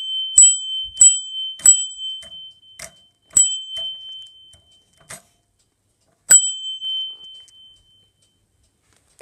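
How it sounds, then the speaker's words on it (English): A stop request bell on a driver training bus rings in short, sharp electronic dings, several in quick succession, then a pause, then one more, loud and close with quiet between. "First of all, we have a bell."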